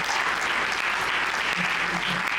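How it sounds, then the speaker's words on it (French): A church congregation at a funeral service applauds loudly and steadily, a dense wash of clapping with faint voices underneath throughout. "Est-ce que vous pouvez acclamer le Seigneur très fort?"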